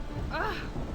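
Steady rain with a low thunder rumble in the open-world game The Witcher 3, set around the city of Novigrad; the storm wash stays fairly even through the whole moment, with a brief rising tonal sweep in the middle.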